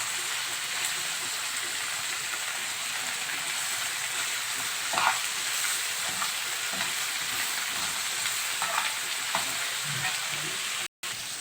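Chicken hearts and onions fry in a pan, making a continuous moderate sizzle like light rain, with occasional stirring scrapes and no speech.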